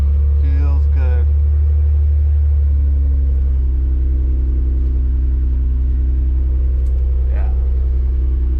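An Acura NSX barn find idles with a deep, steady low rumble that stays loud and close throughout, while a person talks briefly over it.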